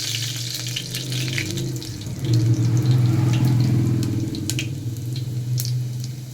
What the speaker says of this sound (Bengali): কালো জিরে আর শুকনো লঙ্কা ফোড়ন দিয়ে দিলাম, সঙ্গে কিছুটা রসুন কুচি দিয়ে দিলাম।